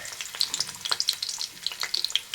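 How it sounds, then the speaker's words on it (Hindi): Garlic and ginger fry in refined oil, a close, crackly sizzle with rapid spitting pops scattered across the whole moment, no voices. "तो यहाँ मैं 4 बड़े चम्मच अभी रिफाइन ऑयल डाली हूँ। अब लहसुन डाल रही हूँ, अदरक,"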